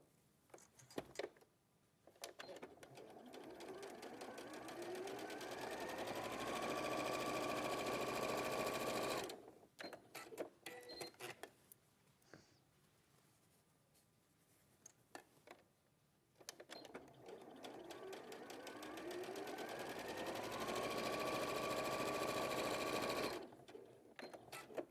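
Domestic sewing machine stitching fabric seams on trouser legs, running in two long steady bursts of whirring motor and rapid needle clatter separated by a quieter pause with clicks and handling noises.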